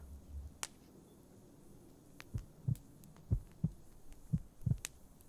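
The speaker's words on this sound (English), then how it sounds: "Sure, you can listen to my heartbeat." A slow, steady heartbeat thumps up close as a roleplay listener rests on a chest, soft low double beats repeating at an even pace over faint background hiss, with an occasional light click.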